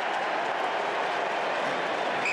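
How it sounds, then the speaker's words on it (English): Dense, steady roar of a large stadium crowd at an Australian football match between Carlton and Sydney, a continuous wash of voices and cheering that holds at an even level throughout. "Huge roars there."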